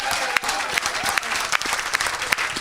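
A church congregation applauds during a live service, a dense and steady patter of many hands clapping at moderate distance, with a few louder individual claps standing out.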